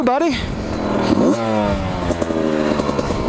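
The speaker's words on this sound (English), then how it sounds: "This is me taking the YZ65 through." A Yamaha YZ65 dirt bike engine buzzes steadily close by, its pitch rising and falling as it revs through terrain, with a voice speaking briefly over it.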